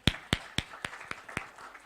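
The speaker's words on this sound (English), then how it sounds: "Give him a big round of applause," A few sharp hand claps ring out close by at a steady, slowing pace, about seven in total and fading toward the end, from an audience at an internet marketing talk.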